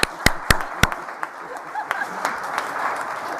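Audience applause at a government announcement event about college innovation funding, opening with a few loud sharp claps and settling into a steady, moderate patter of clapping from a crowd.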